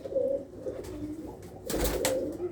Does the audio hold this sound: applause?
no